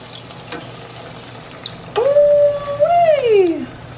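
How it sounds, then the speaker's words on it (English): Flour hitting hot frying oil in a kitchen pan, setting off a loud, close sizzle that surges and fades over a couple of seconds after a quiet start. "You hear that thing sizzle like that right there"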